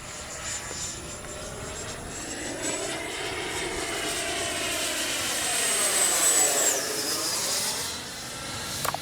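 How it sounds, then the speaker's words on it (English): An FMS 70mm F-18F RC jet with twin ducted fans flies in to land with gear down, its whining roar rising and falling in pitch as it passes, steady and moderately loud, with no talk. "Gear down and ready to land."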